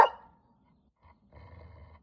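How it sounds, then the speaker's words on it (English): A dog growls low and soft, faint and close, after a brief sharper sound at the start and a short pause. "with your little growls"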